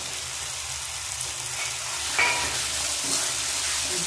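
Tomato and spices for chicken curry sautéing in oil in a pan, a loud, steady sizzle with a scrape or two of the spatula as the mixture is stirred.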